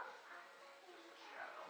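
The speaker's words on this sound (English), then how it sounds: "my dog is barking, obviously" A dog barks and yips faintly in the background beside a 16-foot jon boat being restored, short muffled calls mixed with soft talk nearby.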